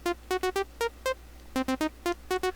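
A Reason Matrix sequencer pattern with added gate triggers plays short, bright synth notes in quick clusters and doubled hits, forming a choppier rhythm than a plain scale, with no other sound.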